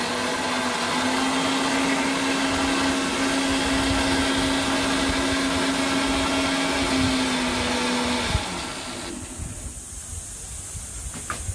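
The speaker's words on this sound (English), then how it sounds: "I'm going to blend it until fine." A blender grinds cashew nuts with water into a paste, giving a steady, loud, whirring roar with a droning hum for about eight seconds before it cuts to a quieter, rougher tail.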